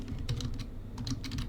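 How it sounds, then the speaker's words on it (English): Fingers type SQL queries on a computer keyboard, a quiet, irregular patter of light key clicks in small bursts over a steady low hum, with no talking. "I'm typing the queries in"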